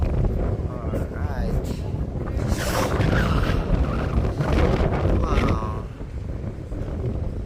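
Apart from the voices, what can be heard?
strong wind on microphone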